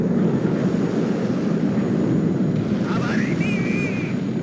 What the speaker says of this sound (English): My MiGs coming in again to try and help the T-80U here.